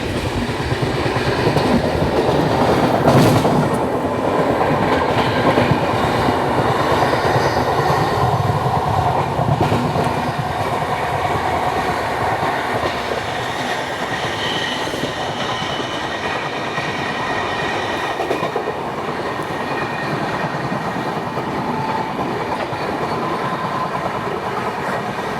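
The Amritsar Nanded Sachkhand Express runs at speed, a steady loud rumble of wheels and carriage noise with faint rhythmic clatter throughout, heard from inside the train with no talking.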